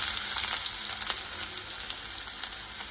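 Sliced onion frying in hot oil in a pan for a South Indian carrot palya, a steady bright sizzle with soft crackles running evenly throughout.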